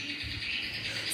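Spring birds sing in a faint, high-pitched chirping and twittering chorus over a soft background hiss, with no talk.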